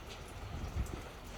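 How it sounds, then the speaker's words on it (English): Steady rain falls outside a non-insulated shop, a soft continuous patter and hiss with no distinct drops standing out, fairly quiet throughout. "It's raining out here."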